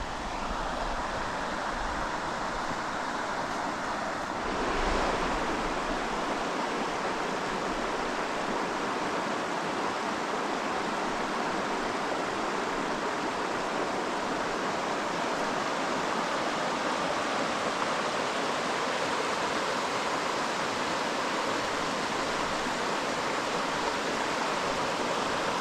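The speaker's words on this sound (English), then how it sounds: "But this is Grizzly Creek, pretty little creek." Grizzly Creek in Plumas National Forest flows steadily, a continuous broadband rush of running water that stays even and fairly close throughout with no voices.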